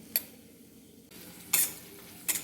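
Onion and peanuts sautéing in a pan, a faint low sizzle broken by a few sharp scrapes of a spatula being stirred through, close by with no voices.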